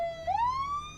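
Siren on an ambulance van in the Stormworks video game, a single rising electronic wail sweeping upward and holding, close and clear with no speech.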